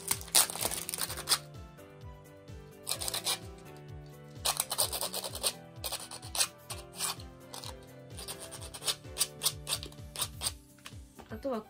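A hand file scrapes a homemade fishing lure for sea bass in quick, rhythmic rasping strokes, grouped in short runs with brief pauses, close and fairly quiet.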